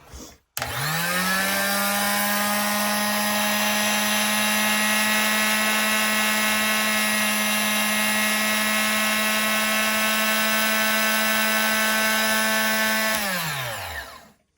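A Warrior 0.9 amp, 2-inch mini cut-off saw motor whirs up to full speed and holds a loud, steady high whine for about twelve seconds before winding down at the end.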